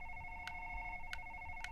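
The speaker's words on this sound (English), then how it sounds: "The phone is ringing." A telephone rings in the horror video game Dream, three short electronic trills spaced evenly over a steady hum, faint and slightly distant.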